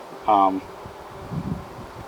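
A short, loud honeybee buzz passes close by at a hive, followed by quieter rustling and faint low murmurs.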